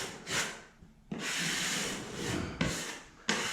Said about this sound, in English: Just use your blade and simply scrape away any of the high spots.